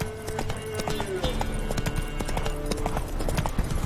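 Roach, a horse in The Witcher 3, gallops with rapid, steady clip-clop hoofbeats that run close and loud throughout, with game voices talking over them.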